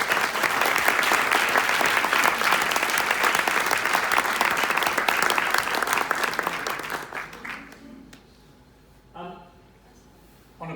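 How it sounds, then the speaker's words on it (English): Audience applause at a retirement celebration for a longtime council figure, loud sustained clapping for about seven seconds, then fading to a few scattered claps and quiet. "Yeah, a round of applause."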